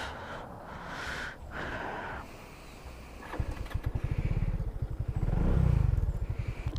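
A Rusi RFI 175 motorcycle labors up a hill, its engine thumping in a fast, steady rhythm that swells louder toward the end, following a stretch of windy, breathy rumble.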